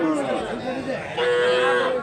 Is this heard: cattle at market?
yes